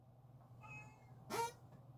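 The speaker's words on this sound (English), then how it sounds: "Cat!" A cat gives a single short meow partway through, moderately clear above a low steady background hum.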